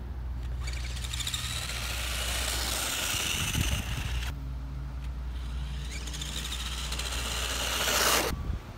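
A Tamiya Technigold toy motor spins with a continuous buzzing whir, close and fairly loud, briefly cutting out and restarting midway before a final surge; no talking.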